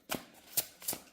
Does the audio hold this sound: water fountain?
no